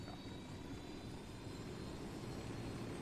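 A helicopter in a video game drones steadily as a low, continuous engine and rotor roar flying low overhead, broadband and unbroken, with no talking.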